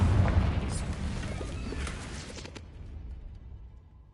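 A Confringo fire spell from Hogwarts Legacy bursts with a loud, booming blast at the start, followed by a rumbling decay that fades toward near silence.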